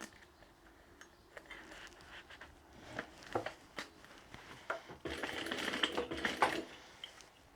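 A sewing machine stitches down parts of a tote bag in short, intermittent bursts of rapid mechanical chatter, with quiet gaps and small clicks between runs and one longer, louder stretch of stitching near the end.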